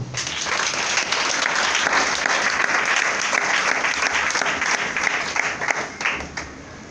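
A church congregation bursts into loud, sustained applause and clapping to acclaim the Lord, with faint voices mixed in, the clapping fading slightly at the end.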